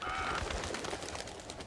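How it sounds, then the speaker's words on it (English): Birds squawking in the horror video game Outlast 2, harsh overlapping calls and flapping over a steady noisy background, moderately loud and continuous for a brief moment. "God damn you birds"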